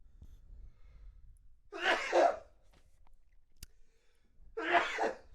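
Two close, forceful sneezes separated by a few seconds of near-silence, with a faint click between them.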